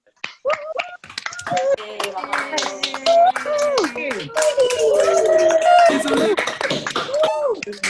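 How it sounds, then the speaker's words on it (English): Scattered hand claps from several participants on an online video call, uneven and overlapping, with voices talking and calling out over them for most of the stretch. "give a round of applause for just a few seconds for Judge Uwale."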